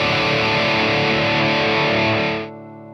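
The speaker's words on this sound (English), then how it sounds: "you can use this as like a parallel distortion" Electric guitar played through a distortion plugin, a dense, sustained crunchy rock tone ringing steadily for over two seconds before cutting off, leaving a quieter held note.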